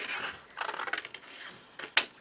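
Scissors cut through card at close range in several crisp snips, scraping slices ending in a sharp closing snap, alone with no talking.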